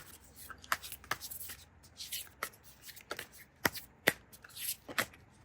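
Tarot cards are shuffled and flicked by hand in quick, crisp riffles and taps, close up and quiet, with no talking.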